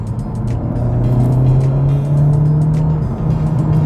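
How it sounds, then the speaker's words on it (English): A 2019 Honda Civic Type R's exhaust drones loudly from inside the cabin as the engine pulls steadily in third gear, its pitch climbing through a sustained acceleration. "you can really hear the exhaust in the car"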